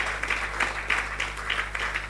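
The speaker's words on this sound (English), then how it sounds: "Please, a warm round of applause." Audience applause at a business and leadership conference: a steady, moderately loud patter of many hands clapping in a hall, with a low electrical hum beneath.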